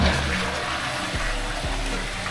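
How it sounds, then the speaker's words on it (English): A toilet flushing in a house under construction, steady loud rushing and gurgling water filling the whole clip at close range, with no talking. "That flushed really well too."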